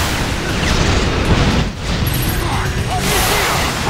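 Explosions in the video game Vanquish form a dense, continuous roar of booms and blasts, loud throughout with no clear gaps.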